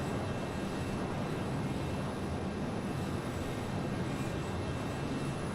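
A Learjet 35A jet engine in Microsoft Flight Simulator 2020, a steady, dense broadband roar with a faint high whine, constant and unchanging throughout, with no talking.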